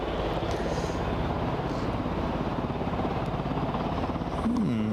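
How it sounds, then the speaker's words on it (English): An Embraer ERJ jet taxis at Aberdeen airport, its engines giving a steady, broad rumbling whine at a moderate distance, with a fainter droning tone joining near the end. "We've got a mystery ERJ taxiing out."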